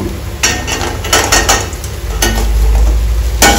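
Small dry coconut pieces stirred in a hot pan with urad dal while dry-roasting for curry leaf powder, giving close scraping spoon strokes and clinks over a constant low crackling hiss.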